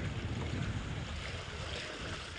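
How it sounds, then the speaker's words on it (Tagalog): Strong sea waves churning around small fishing boats out on the water, a continuous low roar of surf mixed with wind buffeting the microphone, with no voices. "Masyadong malakas yung alon, talaga"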